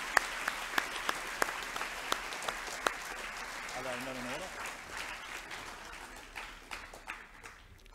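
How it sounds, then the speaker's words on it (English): Applause at a school co-curricular awards evening honouring a rugby group, with a few sharp, distinct claps standing out early over a steady wash of clapping that thins and becomes ragged toward the end. "We'll give this group a round of applause too, please"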